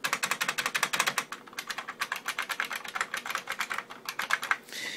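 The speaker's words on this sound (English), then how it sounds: "That is because this is a buckling spring keyboard." Fast typing on a Unicomp Model M Classic 104 buckling spring keyboard, a close, loud stream of crisp clacky keystrokes in quick bursts with a brief pause partway through.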